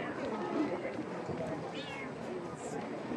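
A cat meows faintly amid a busy, crowded background with talking nearby.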